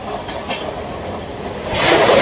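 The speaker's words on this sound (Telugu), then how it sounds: "మన ట్రైన్ వచ్చేసండి ఫ్లాట్ 130 kmph వచ్చింది" Samta Express train running at 130 km/h, a loud steady rush and rumble of wheels and carriages, swelling louder near the end, with no talk.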